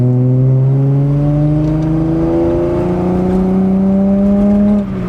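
A Datsun 240Z's engine revs steadily while driving on back roads, a loud, continuous harmonic drone that climbs gradually in pitch, close and alone for about five seconds before easing off at the end.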